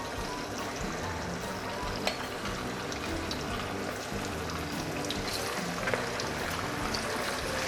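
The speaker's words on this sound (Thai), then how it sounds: "วิธีการทอดนะครับก็ตั้ง กระทะนะครับ ให้พอร้อนนะครับ ก็ใส่ลงไปได้เลย" Marinated salmon belly deep-fries in hot oil in a pan, sizzling and crackling steadily, a dense, constant hiss with occasional pops, close by and with no voices.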